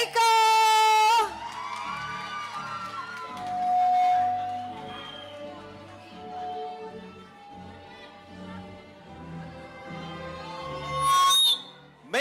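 Graduation ceremony audience cheering and whooping in a loud burst at the start, dropping to scattered shouts and murmuring voices, then surging again into a brief loud cheer near the end.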